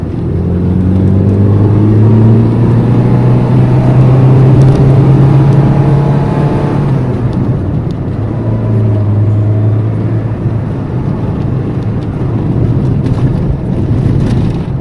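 A Seat Ronda Crono car engine without a catalytic converter drones loudly and steadily, its raw unmuffled rumble rising and falling slightly as it revs, with some wind noise.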